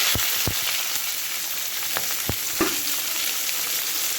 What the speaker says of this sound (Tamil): அடுத்தது மூணு கிராம்பு வெங்காயம் போட்டுடலாம்